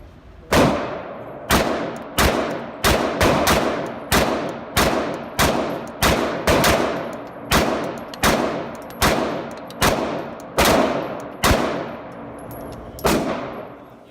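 Sharp, loud pistol shots from a Loki Tactical customized Glock fitted with an RMR sight, about sixteen reports fired in quick irregular strings with brief pauses, each followed by a short echoing decay.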